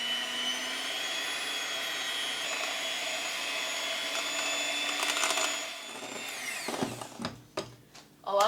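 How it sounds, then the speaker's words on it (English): An electric hand mixer whirs steadily at a constant pitch while beating cheesecake batter with sugar in a bowl, loud and continuous, then slows and sputters into a few knocks and bumps near the end. "So I'm going to use my mixer. I plugged it in, and I'm going to mix it."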